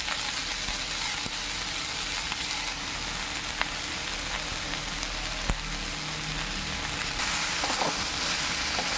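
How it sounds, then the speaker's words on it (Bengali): Ground spices with turmeric fry in a pan, giving a steady, fairly loud sizzle with occasional clicks and scrapes from stirring throughout. "একটু নেড়ে চেড়ে নেওয়া হলো, আর একটু ভাজা হবে"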